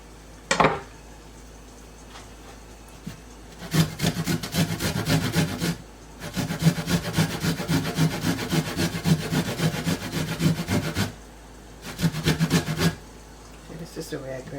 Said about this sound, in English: Grate your ginger.